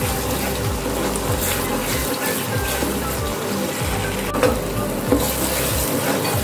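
Masala for kadai paneer fries in a pan and is stirred hard, giving a steady close sizzle with repeated scraping stir strokes and no talk.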